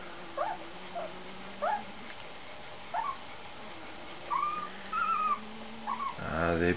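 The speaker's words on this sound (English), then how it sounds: "The puppies are almost a week old." Week-old puppies whimper in a string of short, high, thin cries, about eight separate squeaks spread out, faint and close, with a longer whine near the end.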